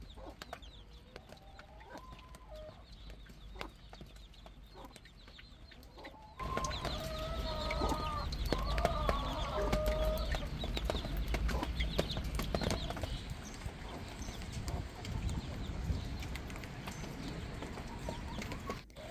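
Hens cluck in short bursts close by, with scuffling movement and outdoor background noise, the clucking fading as activity continues.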